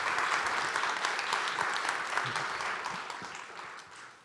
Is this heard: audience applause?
yes